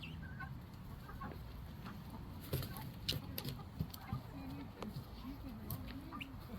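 Backyard chickens cluck softly and intermittently at close range in a quiet outdoor setting, with a few sharper calls in the middle.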